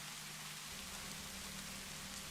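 Steady rain falls softly and evenly, a faint continuous patter with a low hum beneath it and no voices.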